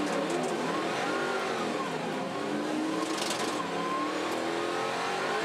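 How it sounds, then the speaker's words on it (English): Muscle car engines roar and rev at a race start on the start-finish straight at Pukekohe, wheels flaring into spin off the line, a loud continuous dense wall of engine noise with no talk. "You can hear it flare into wheel spin as they cross the painted grid boxes on the start-finish straight there."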